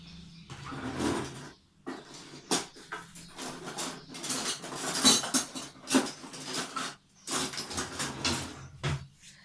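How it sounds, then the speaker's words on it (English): Chocolate cake batter mixed by hand in a bowl, with brisk irregular scraping and tapping of a utensil against the bowl in close bursts separated by short pauses. "so I'm just going to mix this now quickly"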